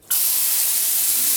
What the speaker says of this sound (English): When I turn even that much, it's spraying all over me.